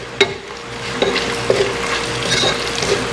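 Garlic and onion stirred in hot oil in a frying pan, with a steady sizzle under a few sharp scrapes and taps of the utensil against the pan, heard close with no talking.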